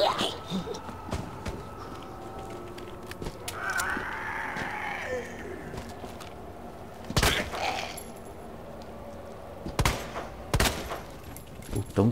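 Gunshots ring out in the Resident Evil 2 Remake video game: a few loud, sharp blasts spaced seconds apart over a low continuous game ambience with scattered softer effects.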